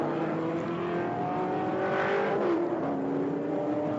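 Race cars roar around a track at a national amateur racing championship, among them a red and white number 81 Pontiac Firebird in the American Iron class, making a steady, loud engine drone with sustained tonal whine and no pauses.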